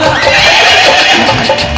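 A horse neighs loudly and close up, a long shrill whinny over rhythmic clip-clop hoofbeats, in a Khatu Shyam devotional bhajan performance.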